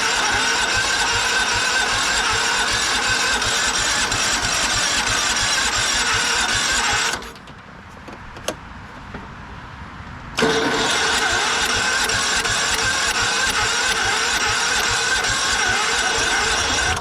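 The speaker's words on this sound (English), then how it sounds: "So we're gonna crank this a bit, see if we can't get this thing to fire off." A Simplicity Regent lawn tractor engine cranks in long, steady, loud, rhythmic churning runs, broken by a few seconds of near quiet before cranking starts again.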